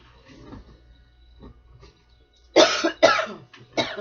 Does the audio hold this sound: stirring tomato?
no